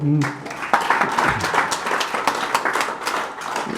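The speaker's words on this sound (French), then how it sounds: "vous pouvez l'applaudir" An audience at the inauguration of a school in Brax claps in a moderately loud, uneven burst, with individual claps distinct and voices mixed in at the start.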